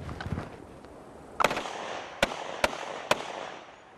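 P90 submachine gun fire: a few sharp, separated reports cut through outdoor ambience, with about four distinct cracks spaced under a second apart, moderately distant.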